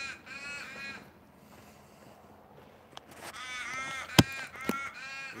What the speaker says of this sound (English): And a couple of crows